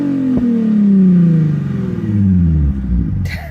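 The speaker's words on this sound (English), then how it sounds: "get some shots of the car being revved." A low-mileage Nissan 350Z engine is revved up and then drops away in a falling sweep with some burbling from the exhaust, loud and close, with a brief click near the end.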